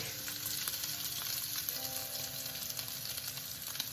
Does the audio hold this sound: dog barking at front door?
no